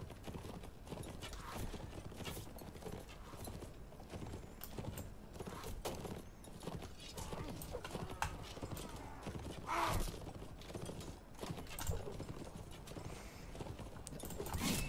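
Horses galloping in the medieval combat game Mount and Blade: steady clip-clop hoofbeats throughout, with an occasional whinny over a busy battle background.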